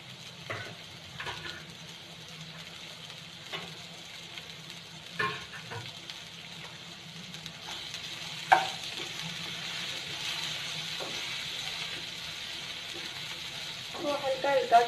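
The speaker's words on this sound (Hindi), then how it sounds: "और इसी तेल में हम अपनी वेजिटेबल्स फ्राई करेंगे। ये वाले प्याज, शिमला मिर्च और गाजर।" Onion, capsicum and carrot fry gently in oil, a soft continuous sizzle punctuated by stirring clacks and pan taps, with a person speaking intermittently.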